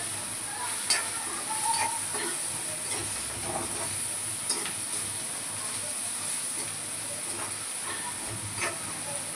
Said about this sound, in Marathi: आता याला छानसं हलवून घेऊया